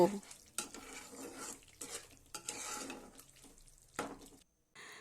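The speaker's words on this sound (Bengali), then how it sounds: "এবারে ওই মশলার সাথে এই মশলাটাকেও আরও 1 থেকে 2 মিনিট একটু কষিয়ে নেব।" Spice masala with a spoonful of sugar stir-fried in a pan for a vegetarian eggplant curry; a spatula scrapes and stirs in repeated bursts over a soft sizzle, with brief pauses between strokes.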